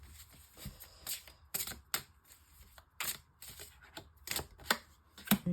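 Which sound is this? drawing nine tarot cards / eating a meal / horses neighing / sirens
drawing nine tarot cards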